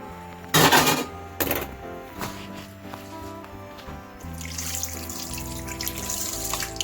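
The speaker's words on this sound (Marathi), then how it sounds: "ह्याच्यात आपण थंड पाणी टाकायचं आहे भरपूर असं" Cold water poured over freshly made homemade paneer in a sink to rinse away the vinegar smell, a steady close splashing and running flow with a couple of sharp clatters near the start.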